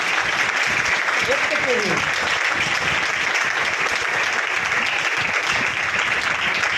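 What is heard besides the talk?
congregation applauding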